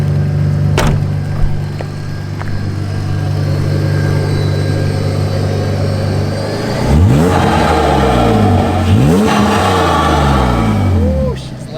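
A supercharged BMW engine rated around 405 crank horsepower idles with a low steady drone, then is revved hard twice, each rev a rising, loud whine-tinged roar falling back to idle, with people talking nearby.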